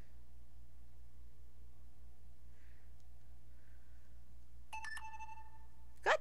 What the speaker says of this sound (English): your phone likes to go off